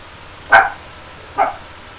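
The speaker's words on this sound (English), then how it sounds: "Sorry, my dog, Roxy the Wonder Dog." A pet dog named Roxy barks twice, about a second apart. The first bark is sharp and fairly loud and the second is softer, both set against a quiet indoor background.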